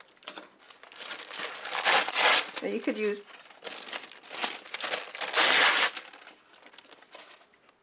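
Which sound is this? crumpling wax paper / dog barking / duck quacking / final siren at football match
crumpling wax paper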